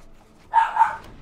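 A pet dog lets out a single short, sharp bark-like yelp indoors, moderately loud against a quiet room, with nobody talking.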